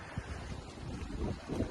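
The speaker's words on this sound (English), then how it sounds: "I do apologise if the sound isn't the greatest, it is quite a windy day" Wind buffets the microphone on a windy day at an outdoor property, producing a low, steady rumbling roar with gusty swells and no other clear sounds.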